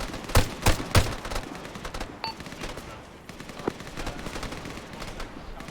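Squad opening fire in a military video game, several loud close gunshots in quick succession, followed by a steadier stretch of distant scattered fire and rumbling.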